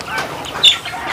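Chickens cluck in a short burst with a brief sharper call near the middle, close by over steady background noise.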